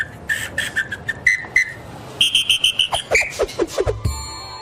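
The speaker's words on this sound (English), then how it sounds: "He seems to play several different sounds on his whistle, presumably in an effort to control traffic" A traffic police officer near the cathedral in Mexico City blows a whistle in varied patterns, short sharp blasts and trilling chirps in quick rhythmic bursts, loud and close.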